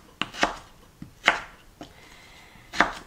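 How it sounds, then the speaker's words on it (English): A knife chops russet potatoes into shoestrings on a cutting board, giving five or six sharp, separate thuds at an uneven pace, close and fairly loud with nothing else heard. "I'm just gonna slice these potatoes and then kind of cut them into shoestrings"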